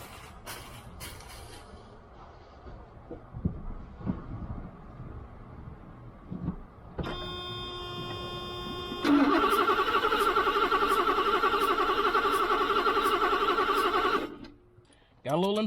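A Mercedes 420SEL with a tired engine grinds over on its starter, first a short whirring crank, then a long, loud, rhythmic churning that holds steady for several seconds before cutting off; a voice is heard early on.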